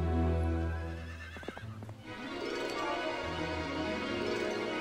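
A horse whinnies at a stable in Heroes of Might & Magic 3, a short, clear neigh with a faint clip-clop of hooves, set over a steady background music bed.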